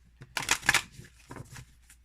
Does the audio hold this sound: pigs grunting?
no